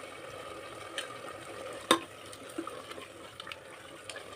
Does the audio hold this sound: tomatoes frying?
yes